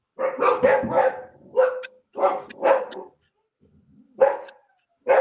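A dog barks in several sharp bursts, first a quick cluster of three, then scattered single and double barks with short pauses between, close and fairly loud with no talk over them.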